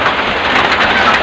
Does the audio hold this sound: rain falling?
yes